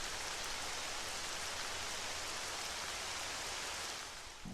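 Steady, dense rainfall in Zelda: Twilight Princess, a continuous hissing wash of drops that holds even throughout and eases slightly at the very end, with no voices.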